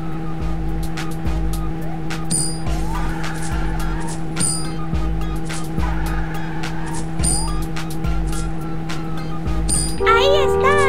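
Animated car chase in a children's driving game, engine droning with looping music while tires screech in short skids, ending in a brighter burst of squealing sound effects; a voice speaks over part of it.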